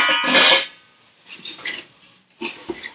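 New cookware pots and lids clink and clatter during unboxing, with a bright metallic ring at the start followed by lighter knocks and scrapes close by, then a few more short taps.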